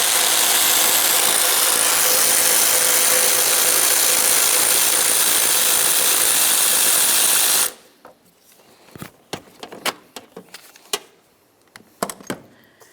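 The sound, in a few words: removing a bolt with a 10mm socket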